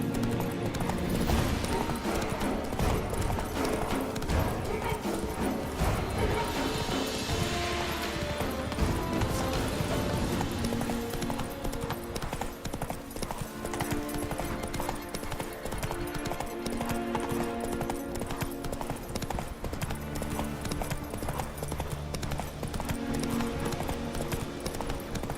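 Roach, the horse in The Witcher 3, gallops with steady clip-clopping hooves under a dense, loud game soundtrack, with brief clashing effects partway through and no talk.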